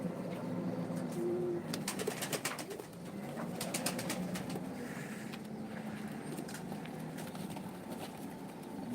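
Young pigeons coo softly over a steady outdoor background, with bursts of wing flapping as birds take off and fly, no talk.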